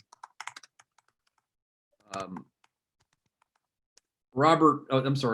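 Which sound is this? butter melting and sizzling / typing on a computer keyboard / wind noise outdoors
typing on a computer keyboard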